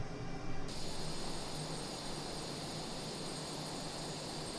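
A simulated jet engine throttles back out of afterburner in Microsoft Flight Simulator, a broad roaring rush that shifts tone in the first second and then settles into a steady, fainter jet whine and hiss.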